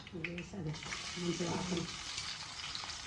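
Onions sizzling in hot oil with chilli powder, a steady soft frying hiss throughout, with a person talking over it.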